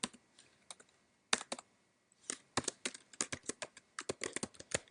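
Rapid keystrokes on a computer keyboard while HTML table tags are typed, arriving in close, crisp bursts with short pauses between them and no voices.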